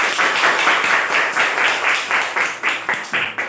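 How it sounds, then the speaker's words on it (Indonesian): Children in a primary-school classroom clap their hands together in a steady, rhythmic burst of claps, fairly loud and close, with no talking over it. "Ya, tepuk tangan dong."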